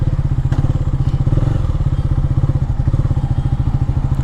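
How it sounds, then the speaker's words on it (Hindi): A KTM Duke 390 single-cylinder motorcycle sets off close by. Its engine gives a loud, rapid, steady thumping pulse with some mechanical clatter and no talk over it. "काफ़ी टाइम बाद मैं बाइक लेके निकल रहा हूँ।"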